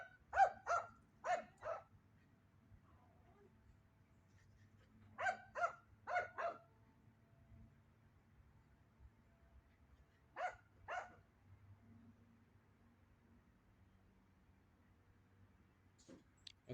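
A neighbor's dog barks in short bursts of two to four barks, spaced several seconds apart, moderately distant against a low background hum with no one speaking.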